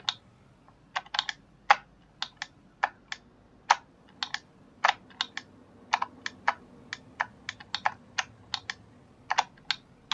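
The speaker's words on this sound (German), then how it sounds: "Also das Klackern ist mein Tastatur." Computer keyboard keys clack irregularly while someone plays Landwirtschafts-Simulator 19, producing sharp, close individual taps and quick double strikes over a quiet background hum, with no voices.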